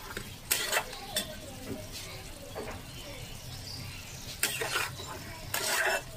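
A pan of rita fish head and taro curry gets stirred, a spoon scraping and clattering against the metal in bursts over a low simmering sizzle, heard close with a voice talking briefly.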